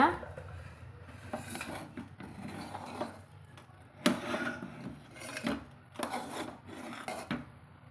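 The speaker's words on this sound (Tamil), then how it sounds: "நெய் சேர்த்து கலந்து விட்டுக்கலாங்க" Egg biryani being stirred with ghee in a cooking pot, with irregular scraping and rubbing of a spoon against the pot in short bursts, close and moderately loud, over a faint background.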